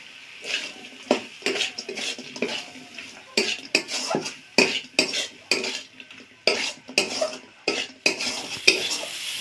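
Fried okra goes into a pan of cooked masala with ground cumin and coriander, and a spatula scrapes and stirs it in a run of repeated sharp metallic strokes against the pan, close and fairly loud, with no voices.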